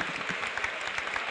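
Audience applause at a 1977 international libertarian conference in Barcelona, a steady faint wash of distant clapping throughout, heard through an old, muffled recording.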